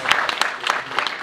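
A short burst of audience applause at an award ceremony in Naples, dense rapid claps from many hands pulsing in quick waves, fairly loud and near.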